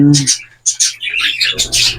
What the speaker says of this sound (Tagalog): apat na inakay na kakahatch pa lang